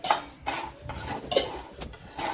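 Semolina roasting with ghee in a pan is stirred with a metal spoon, producing repeated scraping and clinking strokes against the pan in an uneven rhythm, close up and without speech.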